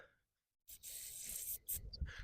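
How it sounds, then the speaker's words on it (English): Aerosol cleaner sprayed through a small fuel-system part from outdoor power equipment makes close, steady hissing bursts separated by brief pauses, after a moment of silence. "I'm going to spray through the top."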